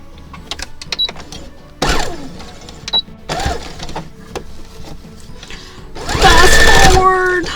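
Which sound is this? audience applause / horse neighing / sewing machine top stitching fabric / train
sewing machine top stitching fabric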